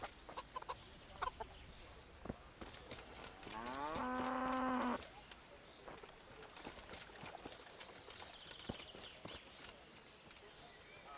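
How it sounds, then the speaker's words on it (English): Cow mooing in a knight video game, a single loud drawn-out moo lasting about a second midway, surrounded by clucking chickens, footsteps and a person talking. "There's a cow. I heard."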